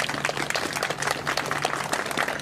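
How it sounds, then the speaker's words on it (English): Scattered clapping from people lining a road, paying tribute to a fallen Capitol Police officer, a steady patter of many hands at a moderate distance with a faint low hum underneath. "You can hear folks clapping now."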